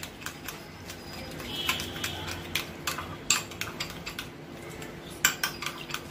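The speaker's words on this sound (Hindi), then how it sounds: "हम इन तीनों चीजों को अच्छे से मिक्स करके एक पेस्ट बनाएंगे।" A spoon clinks and scrapes in a bowl while mixing three ingredients, including cheese, into a paste, making quiet, irregular taps and clatters close by with no speech.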